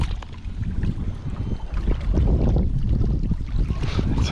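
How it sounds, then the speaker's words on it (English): Wind gusts across a Lake Sonoma fishing spot and buffets the microphone with a steady low rumble. It rises and falls in strength for the whole stretch, with no talk. "It's hard to keep with this wind."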